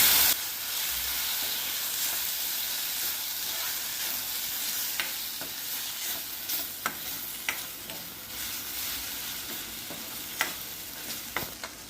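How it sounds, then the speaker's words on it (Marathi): Spices including garam masala and onion-garlic masala powder sautéed in hot oil for Maharashtrian-style chickpea curry, with a steady loud sizzle and scattered clicks of stirring throughout, and no voices. "आता आपण हे मसाले परतून घेऊया"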